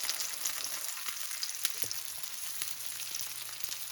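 Green tomato slices fry in a pan of oil with a steady, quiet, crackling sizzle and a few small pops, alone with no talking.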